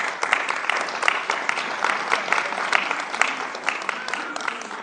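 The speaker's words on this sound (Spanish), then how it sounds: "un aplauso para nuestras hermanas" Church congregation applauding for the sisters during a service: steady, dense clapping from many hands, continuous and moderately loud throughout.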